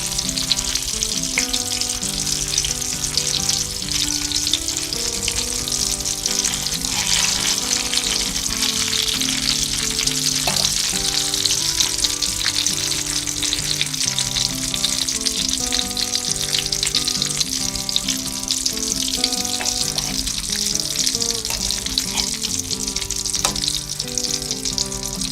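Eggplant slices fry in hot oil with a loud, steady, close sizzle and crackle that continues without a break and with no voices.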